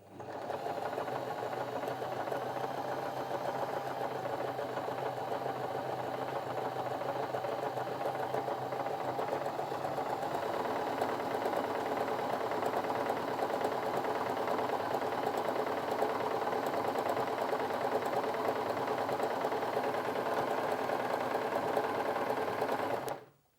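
A Janome J3-24 sewing machine runs a triple stretch stitch through fabric, a steady, close mechanical whirr with a fast rhythmic needle chatter that holds evenly for over twenty seconds before stopping abruptly.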